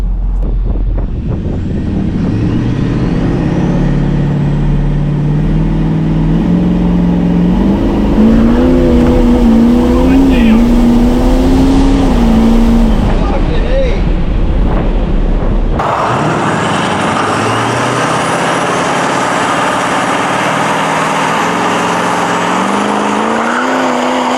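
Turbocharged truck launching at 30 psi boost, 0 to 60, its engine droning loud and close as the pitch climbs steadily, then a sudden shift to a broad rushing roar of wind and road noise, with no voices.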